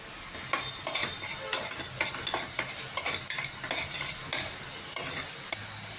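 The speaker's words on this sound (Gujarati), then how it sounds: "ગ્રેવીમાંથી આ રીતે તેલ છૂટું પડે ત્યાં સુધી ગ્રેવીને આપણે પકાવીશું।" Spoon stirring through sizzling gravy in a pan for a guvar and potato curry, steady frying crackle with repeated sharp scraping strokes in an irregular rhythm, close and moderately loud, no voices.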